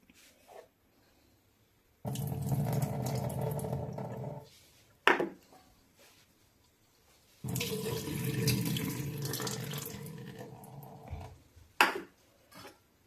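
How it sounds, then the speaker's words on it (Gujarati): Soaked urad and toor dal are washed under running water in two separate bursts of tap flow and splashing, each several seconds long, with quiet pauses and a few short splashes between them. "તો એને બે પાણીએ ધોઈ નાખીએ"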